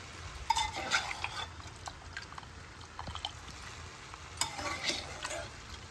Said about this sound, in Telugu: ఇప్పుడు ఇగో మ్యాక్రోనీ వేసుకోవాలి.